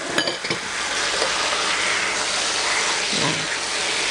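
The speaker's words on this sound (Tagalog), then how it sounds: "Lalagay na natin yung pork belly. Sasangkutsa natin to." Pork belly and chicken thighs sear in a pot with a steady, close sizzle, broken at the start by a few clattering knocks of a utensil against the pot.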